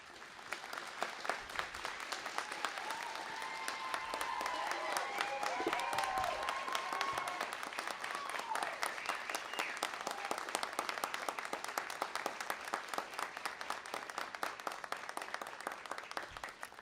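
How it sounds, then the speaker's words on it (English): Audience at the Coconino Community College 2016 commencement applauds the faculty: a long, steady wash of many hands clapping, moderately distant, with faint voices mixed in and easing slightly toward the end. "join me in giving an applause to our faculty"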